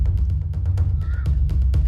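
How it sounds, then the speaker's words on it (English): Crows caw repeatedly in a jungle setting, a run of short, loud, harsh calls in quick irregular succession, with a brief higher whistle-like note midway and no talk. "you can hear the voices of birds"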